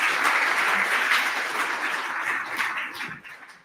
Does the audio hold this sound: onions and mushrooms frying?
no